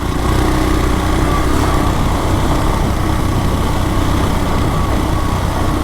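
Souped-up Royal Enfield Himalayan motorcycle engine while riding, a loud, steady, close drone with rough low-end rumble and wind buffeting throughout, no talking.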